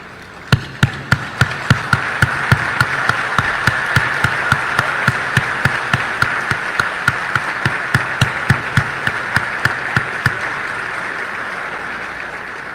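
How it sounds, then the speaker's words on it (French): An audience at a university graduation ceremony for UNIFA in Haiti claps in a steady, rhythmic, synchronized beat, sharp and evenly spaced over a crowd murmur, fading out toward the end. "nous bailler un encouragement avec applaudissement"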